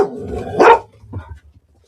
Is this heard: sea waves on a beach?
no